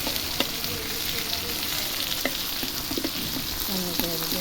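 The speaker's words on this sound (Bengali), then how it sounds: "মাছ ভাজতেছে" Pangas fish frying in hot oil, a steady close sizzle and crackle with scattered sharp pops and spatters throughout, no voices.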